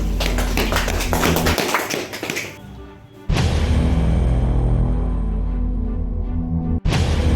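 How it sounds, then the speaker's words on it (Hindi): Loud, sustained applause from a large crowd at a political rally in Bihar, steady dense clapping that briefly thins out and then surges back to full strength. "जोरदार ताली हो"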